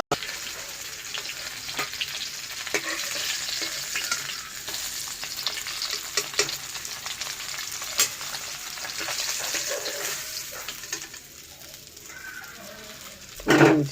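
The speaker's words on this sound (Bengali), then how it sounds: "এটা পুরো অল্প অল্প করে আলাদা আলাদা করে ভাজতে হবে" Fish fries steadily in a pan with a continuous crackling sizzle, dense and close, punctuated by occasional pops and spatters, fading slightly before a brief knock at the end.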